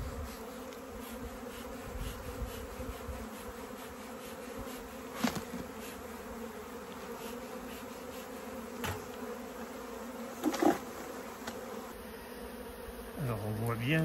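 A continuous hum of many honey bees buzzing around a hive, steady and close, with a few louder individual bees passing near.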